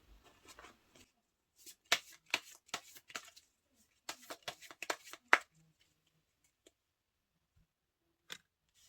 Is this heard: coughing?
no